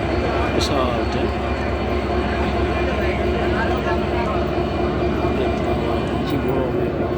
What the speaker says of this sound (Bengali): এখন যাদবপুর স্টেশন থেকে ট্রেন যাচ্ছে